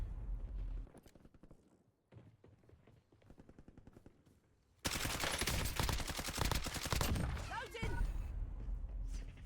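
Gunfire in the video game Warzone: rapid bursts of automatic fire, with sparse shots early, then dense, loud sustained shooting and impacts in the second half, under a player's voice.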